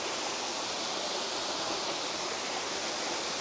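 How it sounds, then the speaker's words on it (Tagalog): A waterfall near a Mangyan village on Mindoro rushes in a steady, dense roar that fills the whole clip, with no talking. "Ayan yung waterfall dito."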